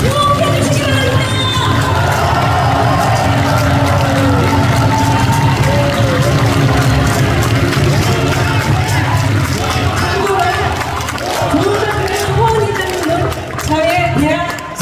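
A large crowd at the Rebuilding Korea Party's first national party members' convention sends up a loud, continuous wash of applause and cheering, with dense voices and clapping blended throughout and only a slight dip near the end.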